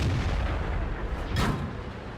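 A tank cannon shot in a tank battle game with the FV4202, a heavy muffled boom over a constant low engine rumble, heard once and close, with no talking.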